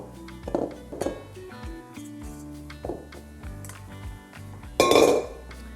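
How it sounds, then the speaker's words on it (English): A spatula scrapes around a mixing bowl of stiff macaron egg whites, giving scattered clinks and knocks with a few sharper scrapes, close and clear, and one louder clatter near the end. "Make sure you scrape the bowl so you get every last little bit."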